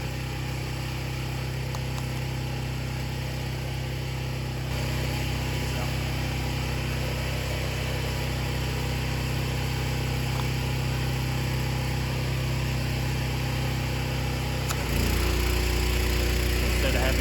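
Pressure washing machine running with a steady, loud mechanical drone and hum, shifting to a heavier, deeper note near the end as the load changes; continuous, with no clear talking over it.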